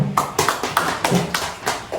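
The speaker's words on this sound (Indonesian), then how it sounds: "Beri tepuk tangan untuk kelompoknya." A classroom of students gives a group a short burst of applause, with about eight sharp, evenly spaced claps in quick succession, fairly close and clear.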